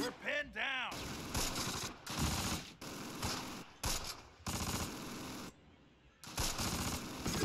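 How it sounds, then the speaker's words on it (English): Bursts of gunfire ring out in the Close Combat wargame as an immobilized tank keeps firing its guns, with repeated loud volleys separated by short gaps and a voice talking briefly near the start. "That tank is immobilized, but its guns are still working."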